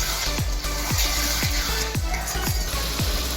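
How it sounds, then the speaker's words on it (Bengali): Chicken masala being stirred and sautéed in a pan with green chilli and salt, a steady loud sizzle broken by regular scraping strokes of the spatula, about one every half second, with no voices. "খুব ভালো করে মিক্স করে একটু কষিয়ে নেব"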